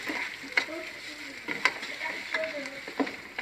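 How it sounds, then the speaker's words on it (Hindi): Crushed red chilli and chopped green chillies frying slowly in a pan over a low flame for aloo gosht, giving a soft, crackly sizzle broken by several sharp stirring clicks. "इसको हम 3 से 4 मिनट के लिए भूनने दें"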